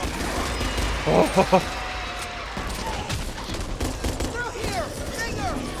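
Rapid gunfire bursts from the Back 4 Blood game crackle amid loud ambient game noise, a cluster of quick shots near the start, while a voice briefly exclaims over them.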